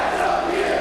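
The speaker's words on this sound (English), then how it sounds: "Match of the year, the crowd's chanting it." Wrestling crowd at a Ring of Honor street fight chanting together in a building, a dense steady roar of massed voices filling the whole moment without a break.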